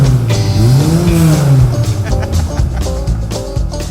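Rotary-engine car revving hard through a motorcycle muffler necked down to fit the original exhaust, a loud buzzing note rising and falling close by, followed by rougher raspy engine noise with a voice partly over it.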